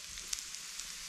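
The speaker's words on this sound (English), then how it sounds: "I'll warm up my lunch on the propane. Got my onions and pork all" Onions and pork frying in a pan on a propane stove in a log cabin, giving a soft, steady sizzle with a few small pops and crackles, heard close and alone.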